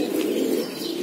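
A female Imamdin racing pigeon coos in a steady low murmur, close and continuous through a single second with no other sounds.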